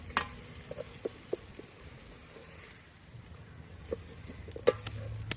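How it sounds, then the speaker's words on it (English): Onions caramelizing in a pan over an open wood fire outdoors for a beef and potato stew, a faint steady sizzle under crackling with scattered stirring clinks and scrapes, no talking. "I'm sure you can hear in the background those onions caramelizing."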